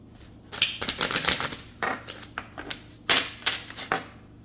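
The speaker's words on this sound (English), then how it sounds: "I'm going to shuffle the Kipper deck." A Kipper card deck being shuffled in several quick riffling bursts, each a crisp fluttering rattle, close up with short pauses between them.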